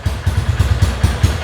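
A motorcycle engine idles up close in a steady, thumping low pulse, just over a second of even running with no voices.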